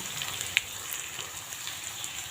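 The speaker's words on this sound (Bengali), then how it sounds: "এখন এই আলুটা ভালো করে ভেজে নুন হলুদ দিয়ে দেবো" Boiled potatoes fry in a pan with a soft, steady sizzle at low level, one faint tick of a utensil partway through and no voices.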